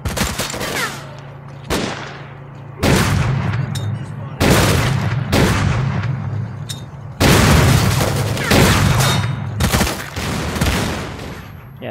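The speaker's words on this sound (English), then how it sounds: "That guy's definitely using a shotgun" Repeated heavy shotgun blasts and gunfire in a firefight with bandits in exosuits in the video game S.T.A.L.K.E.R.: Clear Sky, coming in several loud bursts spread across the scene.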